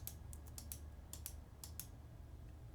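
Quick typing on a computer keyboard: a short burst of light, close key clicks in an uneven rhythm, heard alone against a quiet room hum.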